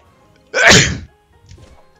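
A single loud, close sneeze bursts out abruptly and fades within half a second, followed by faint, low rustling and shuffling.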